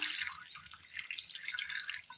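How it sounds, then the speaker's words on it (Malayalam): Water is poured into a cooking pot holding cleaned cauliflower and salt for a simple Kerala curry, giving a brief, bright splashing trickle close up. "വെള്ളം ഒഴിച്ചു കൊടുക്കാം."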